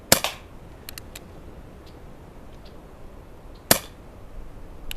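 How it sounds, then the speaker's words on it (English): Two sharp, dry pops from an Umarex Colt Peacemaker BB revolver fired at a 10-meter target, spaced a few seconds apart with a faint hiss after the first shot and quiet between. "I actually seen the BB, so it didn't really shoot good"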